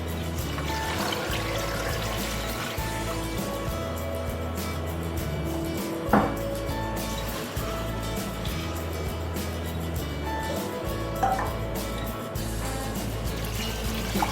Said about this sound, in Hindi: तो बस मैं इसमें पानी ऐड करूँगी।